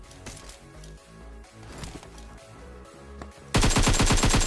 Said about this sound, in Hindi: और भाई पीछे से फायरिंग चल रही थी